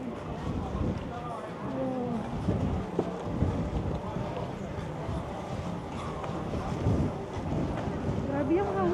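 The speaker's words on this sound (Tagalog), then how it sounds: "Grabe yung hangin." Strong, gusty wind buffets the microphone outdoors in Gamcheon Cultural Village, a hillside village in Busan, a steady broadband roar with people talking over it throughout.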